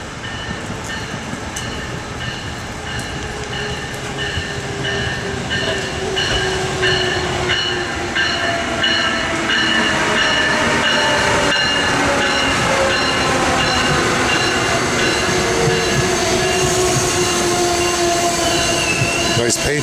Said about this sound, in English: here comes Northeast Regional, train number 124 to New York and points north.